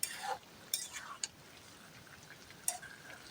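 Pigeon meat curry is given a brief stir in a pot, with a handful of faint, spaced clinks and scrapes of the spoon over a quiet simmering background.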